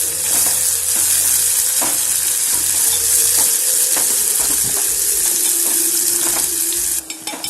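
Garlic cloves, urad dal, cumin and dried red chillies fry in a pan with a bright, constant sizzle, broken by a few spatula scrapes and stirs.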